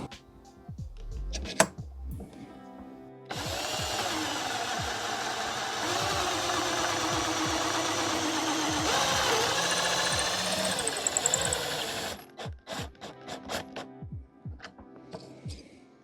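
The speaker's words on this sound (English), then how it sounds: "if I drill through straight at the top using the guide" A power drill whirs steadily for several seconds drilling through wood, a loud continuous motor drone, with scattered knocks and handling sounds before and after.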